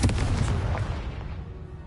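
Explosive blasting spell from the Hogwarts Legacy video game, a loud, dense rumbling boom that fills the whole moment and slowly decays, with no talking over it.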